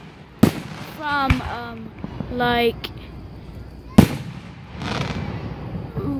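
Fireworks go off with sharp bursts and crackles, some louder than others, under a voice that talks throughout.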